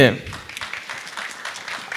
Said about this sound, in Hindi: एक और बात जोरदार तालियां हो जाए देखे यामी जी के लिए।